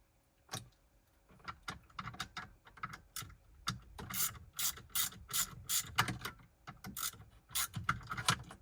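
Ratchet and socket working on the steering wheel housing of a Ford F150, rapid clicking bursts of the pawl in uneven runs, close and growing busier, with no talk.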